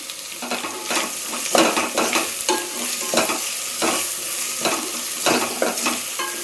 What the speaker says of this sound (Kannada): ಇದೀಗ ಫ್ರೈ ಆಗಿದೆ ಇದಕ್ಕೆ ಈರುಳ್ಳಿ ಹಾಕ್ತಾ ಇದ್ದೀನಿ